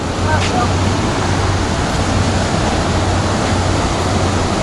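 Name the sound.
ocean waves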